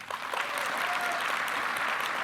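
An audience claps steadily to vote no on an automated strike zone at a sports analytics conference, a dense, sustained wash of many hands at moderate volume with no voices over it.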